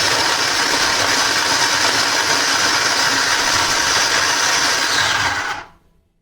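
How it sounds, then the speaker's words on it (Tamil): A kitchen mixer grinder runs at full speed blending onion and garlic, a loud, steady whirring motor drone that holds evenly for several seconds before cutting off abruptly near the end, with no talk over it. "அதோட இந்த வெங்காயம் எல்லாமே போட்டு ரன் பண்ணி எடுத்துக்கலாம்."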